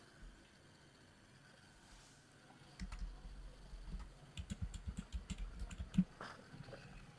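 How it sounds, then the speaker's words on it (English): Typing on a computer keyboard at a Windows PC, a quick burst of light key clicks building to a steady run of taps, moderately near with a low background hum. "type services.msc"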